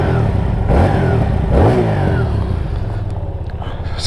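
A Hyosung Aquila GV300 bobber motorcycle sits in neutral as its engine blips up in two throaty revs, then settles back to a lumpy idle, loud and close.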